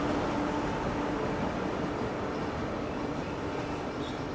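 An Indian Railways train hauled by a WAP-7 electric locomotive, running with a Coromandel Express rake, rumbles along steadily with a continuous, fairly loud rolling roar heard from on board.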